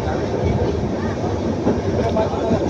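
A passenger train running on the Erode to Bangalore route, with a steady loud rumble and rolling rail noise throughout, heard from on board.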